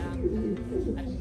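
Breeding pigeons in a loft cooing softly in low, throaty bursts, close and continuous over a brief moment, with a voice speaking faintly behind.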